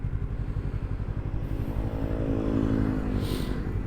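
A Yamaha MT-25 motorcycle fitted with a racing exhaust idles close by with a deep, rapid, throaty exhaust pulse, steady and loud throughout.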